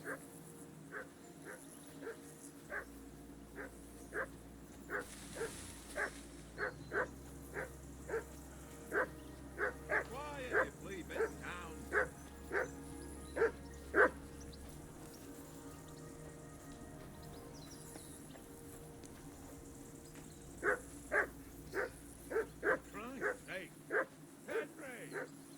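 A dog barks repeatedly in Kingdom Come Deliverance II, short evenly spaced woofs over a low steady game ambience, pausing midway and then resuming in a second run of barks.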